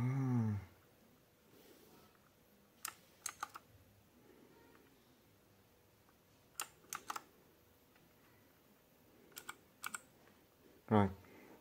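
An RK61 RGB 60% hot-swap mechanical keyboard with blue switches being typed on, short sharp bursts of clicky keystrokes separated by quiet pauses, close up, with a brief voice at the start and near the end.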